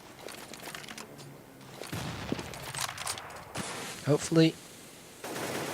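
Counter-Strike match gunfire, with scattered distant shots and a short burst of rapid shots, mixed with a sharper close pair of shots later on, under a commentator's voice.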